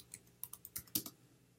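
Keys tapped on a computer keyboard while entering figures into a spreadsheet: a quiet, irregular run of about eight to ten crisp clicks in short bursts, close by and with no talking.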